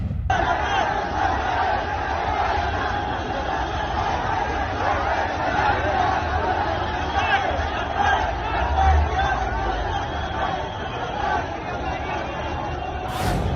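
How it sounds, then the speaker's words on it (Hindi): A large, dense crowd gathered outside a police station demanding Mufti Salman Azhari's release, a steady roar of many voices shouting and chanting together without letup for the whole stretch. "ये भीड़ देखिए आपको, इसी भीड़ को उन्होंने शाम में एड्रेस किया।"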